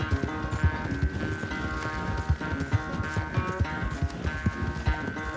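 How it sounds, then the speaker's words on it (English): A horse gallops in a race in Red Dead Redemption 2, its hooves pounding in a fast, steady rhythm close up, with a sustained musical tone underneath. "Una carrerita. De caballo especial."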